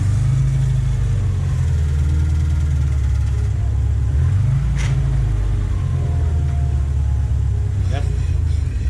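A car engine with a junkyard Subaru transmission hums and revs steadily, rising in pitch midway, loud and close, with people talking over it.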